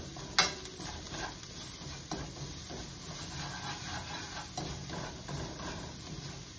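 Garlic sautéing in a pan until browned, ahead of adding asparagus, with a soft, steady sizzle and occasional scraping stirs and light knocks, fairly quiet and without talk.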